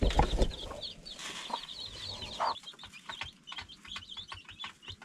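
Seven young baby chicks clucking and peeping: a busy run of short, high chirps repeating throughout, close by, with some rustling at the start.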